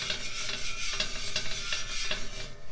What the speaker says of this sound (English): we'll use the grains on the salt as a little scrubbing type compound